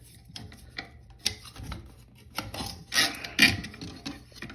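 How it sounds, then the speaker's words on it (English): Pliers tightening the nut on a toilet tank flush valve make scattered scraping, rasping and clicking sounds, close by and irregular, with a few sharper grinding squeaks near the end. "I'll just put plier in there just to tighten it a little bit,"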